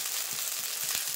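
Tomato and spices sizzle in a pan as the masala for Bengali rui fish kalia cooks down, giving a dense, even frying hiss with faint low bumps beneath, close and steady.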